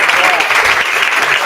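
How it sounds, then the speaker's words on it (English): Loud, dense audience applause at a live shopping summit, a continuous burst of clapping close by with no letup. "Let's clap it up for them."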